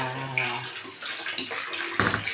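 Water pushed up by a water pump filling a bathroom, a continuous splashing gush into a container with a steady hiss, close by, with a low hum at the start.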